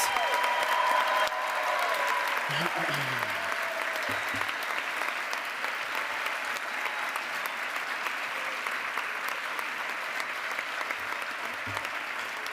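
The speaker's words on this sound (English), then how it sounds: "I think we should give one more round of applause for all of our graduates." An audience gives a sustained round of applause for graduates at a Physician Assistant white coat ceremony at Hofstra University, with steady crowd clapping throughout and a few brief voices near the start.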